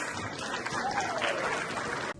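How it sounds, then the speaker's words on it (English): Applause from an audience of Pakistani-American doctors at a gathering in Washington DC, a sustained burst of many hands clapping at an even level that stops abruptly at the end. "A hand of applause, please."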